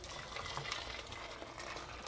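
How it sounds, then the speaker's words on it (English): Four cups of just-boiled water pour into a pot for a creamy pasta with peas, a soft, continuous gushing splash that stays fairly faint and even throughout, with no talking. "my 4 cups of water have come to a boil, and I'm going to add them."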